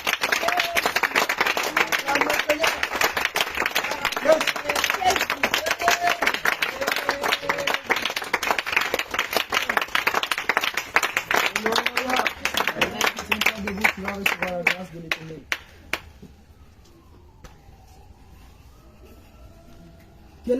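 A church congregation claps and cheers in acclaim of Jesus during a worship gathering, with dense, sustained applause and voices for about fifteen seconds before it fades to near silence.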